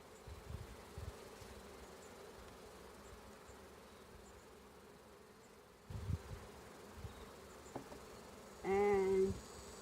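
Honeybees hum steadily in a low, continuous drone around an open hive while frames of hatched worker brood are inspected; a louder, closer buzz swells briefly near the end as a bee passes the microphone.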